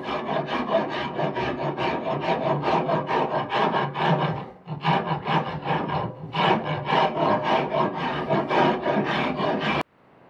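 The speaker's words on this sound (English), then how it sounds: "I'm basically just going to go down this handle with my rasp here, try to stay in the center" A hand rasp files steadily along a wooden axe handle, flattening one face into an octagon; rapid, loud back-and-forth rasping strokes run continuously, with a brief pause midway before the strokes resume and then stop abruptly.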